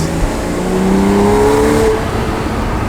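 A car engine drones loudly and steadily on a French Riviera mountain road, its pitch climbing as it accelerates, then easing off, heard from inside or close by.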